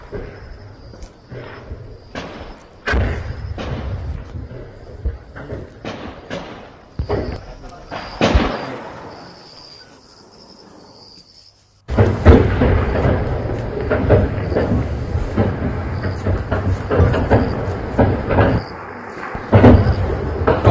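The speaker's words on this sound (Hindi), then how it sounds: "सुन पा रहे हैं कि किस तरह से गोलियों की आवाजें आ रही हैं।" Sharp, irregular gunshots from an armed encounter in Kashmir crack out one after another, then give way to a dense, loud stretch of continuous noise.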